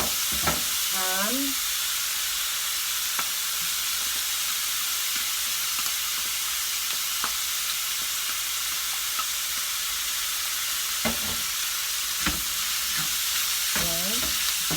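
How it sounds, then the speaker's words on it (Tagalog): Browned ground meat, hotdog and ham sizzle steadily in a pan for fried rice, with a constant frying hiss and occasional scrapes and clinks of stirring, and a voice speaks briefly. "Pag nag-brown na yung giniling, lalagay na natin yung hotdog,"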